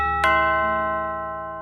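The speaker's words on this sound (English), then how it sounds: "I didn't think we had a doorbell." A single bright electronic doorbell chime strikes and rings out, its tone sustaining and slowly fading.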